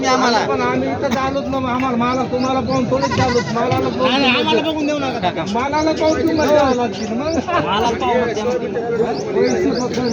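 Goats bleat constantly and loudly at a livestock market, many animals overlapping in wavering cries over crowd chatter and people talking nearby.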